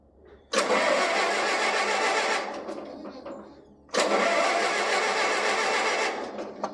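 An old tractor engine cranks and catches in two loud, rough bursts, each roaring for a couple of seconds before easing off.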